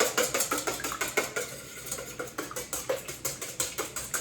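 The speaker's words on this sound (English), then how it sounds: "We need 2 eggs, and you really want just enough egg to really coat the cauliflower." Two eggs whisked in a bowl, a quick steady rhythm of metal clicking and scraping against the bowl, close and alone.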